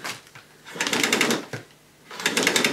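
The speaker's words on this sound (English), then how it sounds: "So before I go, we'll pull out the cord." A Sebo K1 Eco cylinder vacuum cleaner's power cord being pulled out, two bursts of rapid rattling clicks from the reel with a short pause between them, close and fairly loud.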